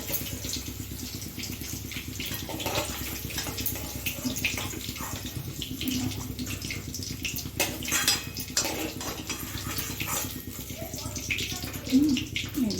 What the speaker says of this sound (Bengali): এবারে আমি পনিরগুলোকে তুলে তুলে গরম জলের মধ্যে দিয়ে দেবো।